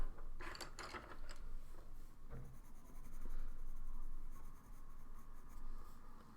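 A pencil shades on paper during drawing, with close, scratchy strokes in short bursts and then a longer, steady stretch of rubbing.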